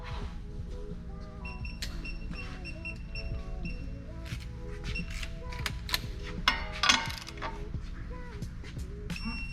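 Clicks and ratcheting from a torque wrench tightening a bolt on the suspension of a 2022 Honda Civic Si, close and fairly quiet, with a few sharper metallic clacks near the end.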